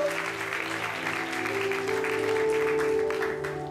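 A church congregation applauds God during worship, steady clapping layered over sustained music and singing that swells slightly toward the end.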